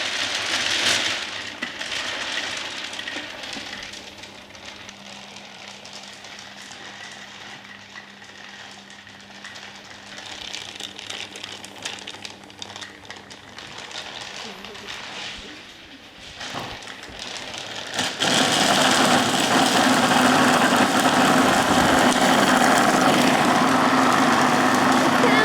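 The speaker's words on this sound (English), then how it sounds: "now we're just gonna have to let it blend for a while" A kitchen blender runs steadily, a loud broadband whir that continues for the whole stretch, surging noticeably louder and rougher toward the end, with no talking over it.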